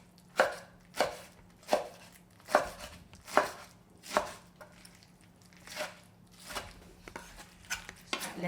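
Kimchi being chopped with a knife on a cutting board for a fermented soybean paste stew, about a dozen crisp, evenly paced knife strikes, close and distinct, with no talking.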